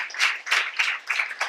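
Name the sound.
audience clapping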